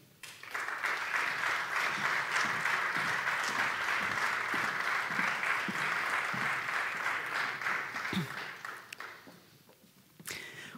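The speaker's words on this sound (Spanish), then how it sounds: "vamos a recibir con un aplauso a algunos de ellos ya presentados anteriormente a Álvaro Ferrol, Javier Conde y Susana Gaitá" Audience applause welcoming guests onto a panel at a festival colloquium, sustained and steady for about eight seconds before fading out, with a few footsteps near the end.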